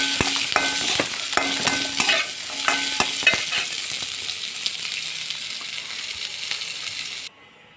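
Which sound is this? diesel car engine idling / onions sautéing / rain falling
onions sautéing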